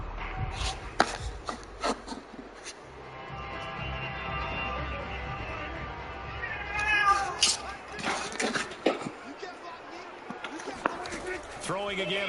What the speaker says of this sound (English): Loud ass cat.